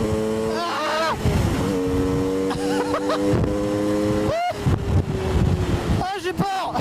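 Sherco motorcycle lapping a race track, its engine whining and shifting pitch up and down with rushing wind noise throughout, while a rider talks and exclaims over it.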